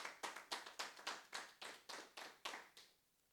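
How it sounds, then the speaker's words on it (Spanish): About a dozen sharp, even claps of applause at a church service, steady in rhythm, loud and close, fading into quiet at the end. "Un fuerte aplauso para nuestro Señor"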